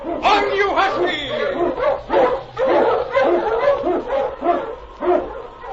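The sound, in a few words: husky sled dogs barking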